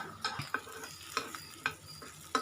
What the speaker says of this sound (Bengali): আমি একটু বাটার ব্রাশ করে নিয়েছি এটা আমি একটু ভাজা ভাজা করে নিই